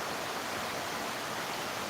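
Heavy downpour in Guwahati from a second-floor balcony: a thick, unbroken rushing hiss of rain, loud and even, with no speech.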